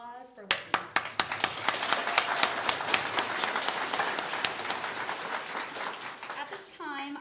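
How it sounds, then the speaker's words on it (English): Audience applause at a college graduation ceremony starts with a few sharp individual claps and builds into steady, moderately loud clapping before fading, with talk and a voice audible at the very start and end. "Let's give another warm welcome and round of applause for Whitney."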